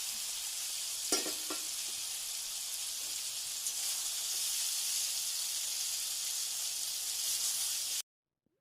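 Fried tengra fish tipped into a pan of sizzling onions and spices, with a few sharp clatters near the start and then a steady, loud, hissing fry that continues throughout.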